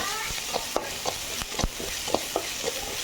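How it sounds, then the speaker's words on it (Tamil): Mustard seeds, cumin, curry leaves, green chili, garlic and turmeric fry in hot oil for rasam, with a steady sizzle under sharp scraping stir strokes and occasional pops. "அதுக்கப்புறம் நம்ம நசுக்கி வச்சோம்ல அந்த ஜீரகம், கருவேப்பிலை, பச்சை மிளகாய், பூண்டு, மஞ்சள் எல்லாத்தையும் இந்த மாதிரி நம்ம எண்ணெயில் வச்சு வறுக்கணும்"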